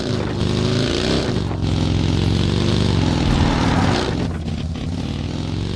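Monster truck engine in the mobile battle royale game PUBG Mobile, a loud, continuous low droning rumble with shifting revs, steady throughout and heard alone without talk.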